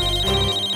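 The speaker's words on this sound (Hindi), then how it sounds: "मुझे भी फोन आया।" A telephone ringing with a steady electronic tone, brief and fairly loud, with no voices.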